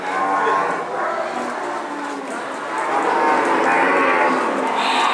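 Thin cattle low and moo at the Siyono animal market amid a busy crowd, the calls mixed under nearby people talking.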